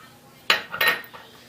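Cupcake batter being mixed in a bowl, with a sharp clatter of a utensil against the bowl followed by a brief scraping and a fainter tap.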